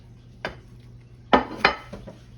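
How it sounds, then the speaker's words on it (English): Hamburger patties set back into a cooking pan, heard as a few sharp metallic clanks and clinks of utensil against pan, spaced irregularly over quiet kitchen background. "I'm gonna put them hamburger patties right back in there"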